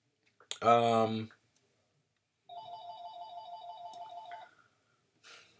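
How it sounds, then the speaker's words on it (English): A telephone rings with a steady electronic ringtone pattern for about two seconds, moderately loud and alone, after a short burst of a voice, with another brief noise at the end. "That phone ringing."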